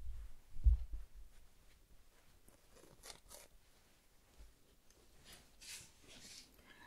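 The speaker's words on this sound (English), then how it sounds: "Okay, I'll just fold it for you." Fabric of a garment being folded by a shop assistant in a quiet retail setting, with soft rustles and a brief handling thump near the start, then faint swishes and crinkles throughout, close and gentle.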